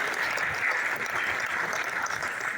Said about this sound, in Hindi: हमारे मेहरा जी के लिए एक जोरदार ताली।